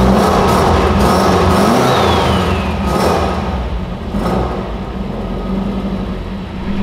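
A Subaru Impreza with an EJ207 engine, cold after sitting unused, runs loud and steady from start to finish with a rough, throbbing note and one brief dip in level. No voices are heard.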